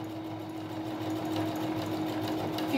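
A sewing machine runs steadily, stitching patchwork fabric strips for a rug, its motor giving a continuous, even hum close by with no talk.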